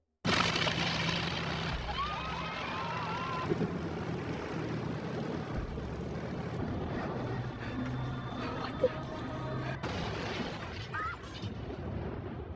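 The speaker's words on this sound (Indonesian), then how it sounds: "Tak butuh waktu lama bagi Laura Lee untuk menerbangkan pesawat itu." A small airplane taking off and flying in a film scene, a broad steady roar of engine and rushing air that holds loud throughout with brief bursts, mixed with soundtrack and faint voices.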